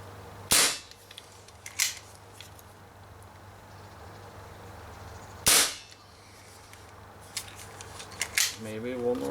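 Umarex Marlin BB revolver firing while plinking, several sharp cracks spaced seconds apart with a softer click or two between, heard alone against quiet outdoor background.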